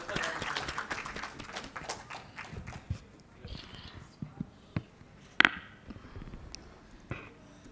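Scattered, uneven hand claps from a modest conference audience at a traditional and alternative medicine event, starting fairly dense and thinning into sporadic isolated claps, with some talk in the room.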